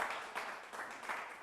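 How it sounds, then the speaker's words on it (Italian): An audience applauds performers called back onstage at a televised Miss pageant show, a faint, distant wash of clapping in soft swells with no voice heard. "un altro applauso per voi"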